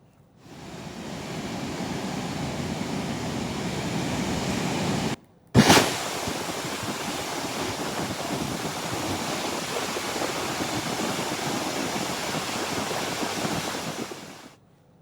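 Floodwater thunders over the Manimuthar waterfall in a loud, steady, unbroken roar that fills the whole stretch, with only a brief dropout partway through.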